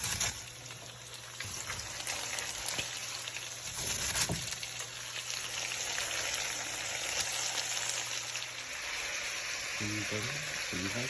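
Cabbage with seasoning fries in a pan with a soft, steady sizzle that holds at a low level throughout, with a few faint clinks of stirring.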